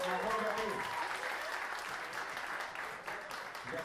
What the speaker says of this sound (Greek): Να δώσουμε ένα χειροκρότημα στην Νατάσα επίση